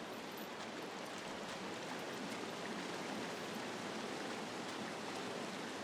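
A river in the video game Firewatch flows steadily past a rock path, giving a soft, constant rushing wash of water that carries on unbroken and fairly faint.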